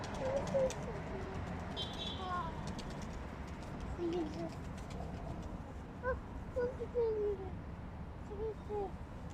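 Birds coo and chirp softly in the background while people talk nearby; a steady outdoor hum runs throughout.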